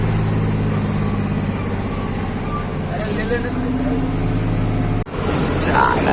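A heavy vehicle rumbles past nearby with a loud engine drone, a brief hiss of air brakes partway through, and a sharp thump near the end.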